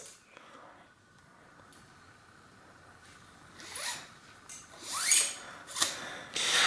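A cut brake cable being pulled out of a road bike's drop-bar brake lever, a series of quiet scraping, zipping rasps that grow louder and come in several short pulls near the end.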